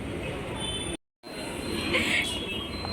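A metro train runs through a metro station, its loud, continuous rumble joined by squealing wheels and a brief cut in the sound near the start.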